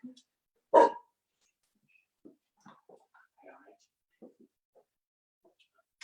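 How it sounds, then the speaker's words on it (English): A single loud dog bark rings out, followed by quieter scattered sounds and faint vocal noises in an otherwise quiet room. "As you can hear, the dog's just come in. She's just barking at something."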